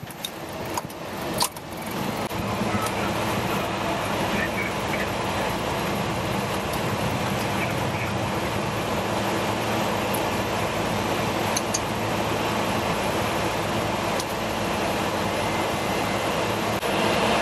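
Lufthansa MD-11F cargo jet taking off from Frankfurt with gear retracting, a loud, broad, steady roar heard from inside the cockpit with a few brief clicks near the start and no talk.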